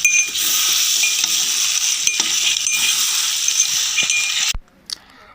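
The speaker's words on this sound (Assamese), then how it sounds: "আদা ৰহুন দিলোঁ ইয়াত অকণমান, আৰু লাহে লাহে এনেকৈ দি থাকিম আৰু বস্তুবোৰ লাহে লাহে লৰাই দিলোঁ।" Ginger and garlic sizzle loudly as they fry in a pan, with scraping stirs and light metallic clinks throughout, then the frying cuts off abruptly near the end, leaving a brief faint clink.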